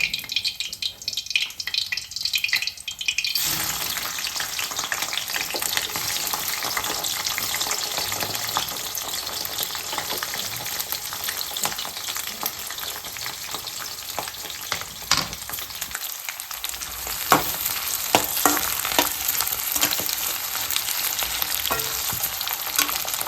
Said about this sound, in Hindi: तो मैंने सब्ज़ी फ्राई कर दी है, पनीर, आलू और शिमला मिर्च